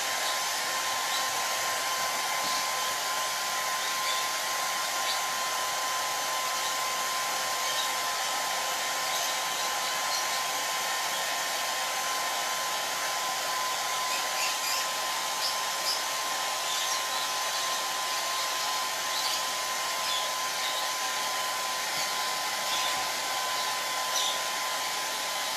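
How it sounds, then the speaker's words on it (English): Hair dryer blowing on a DIY bumble bee potted plant craft, a steady, even whoosh with a constant motor whine that runs without a break, fairly close and with no talk. "I'm going to blow dry this again"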